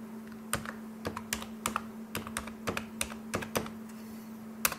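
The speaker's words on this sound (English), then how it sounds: "First I have to type configure." Keys on a computer keyboard are struck in an irregular series of crisp clicks while a command is typed, with a steady low hum underneath and no speech.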